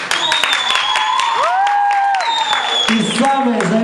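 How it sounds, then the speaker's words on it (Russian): Audience at a school beauty pageant applauds a contestant, sustained clapping and some whoops with a loud voice and a rising whistle-like tone over the top, close and lively for several seconds. "Аплодисменты, Кате!"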